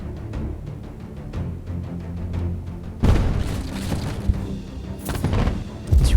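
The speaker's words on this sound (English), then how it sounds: "these little guys will shoot these massive explosions towards me" Booming blasts and crashing impacts from combat in the video game Hades, set against a rhythmic game soundtrack, with a sudden heavy burst midway and more loud hits near the end.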